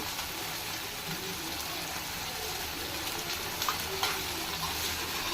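Chicken frying in a pan for a home-cooked meal gives a steady, close, broadband sizzle that runs evenly throughout, with a few brief stirring clinks near the end and no voices.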